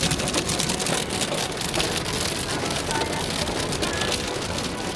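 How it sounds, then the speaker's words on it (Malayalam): Heavy rain drums hard and steadily on a nearby surface in Wales, with a faint engine hum underneath. "എന്റെ പൊന്ന എന്നാ മഴ നോക്കി ഈ മഴയത്ത് എങ്ങനെ കിടക്കാൻ നമ്മള്"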